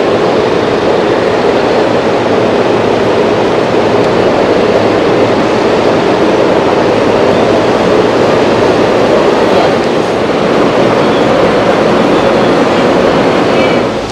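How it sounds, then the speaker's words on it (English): An open-air tram at Space Center Houston in Texas passes close by with a loud, sustained rumbling roar that holds steady for about fourteen seconds, with no talking. "That is the tram."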